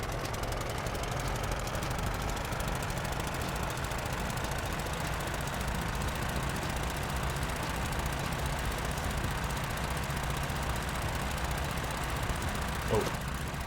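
Engines on a vessel in the video game Stormworks run with a steady low drone and a faint rhythmic knock, constant and moderately quiet throughout, with one small blip near the end.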